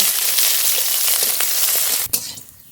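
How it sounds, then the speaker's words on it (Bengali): Chopped onion sizzles steadily in hot mustard oil tempered with dried red chillies and panch phoron, a dense close frying hiss that breaks with a brief clatter near the end before quieting. "পেঁয়াজ হালকা করে ভেজে নিয়েছি"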